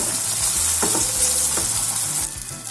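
Tomatoes frying and sizzling in oil for a vegetable dum biryani, with a steady close hiss and a few soft scrapes of stirring, no voices.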